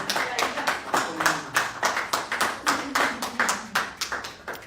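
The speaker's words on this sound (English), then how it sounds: "if I did well, give me a clap" A live audience at a book tour event in Geneva, Switzerland claps steadily in a regular rhythm. The beats are close and fairly even, with faint murmuring underneath.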